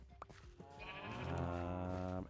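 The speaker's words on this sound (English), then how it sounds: "More sheep than we have grass, or that the grass is able to sustain" A sheep in Minecraft gives one drawn-out, wavering bleat that is loud and close, with no talking over it.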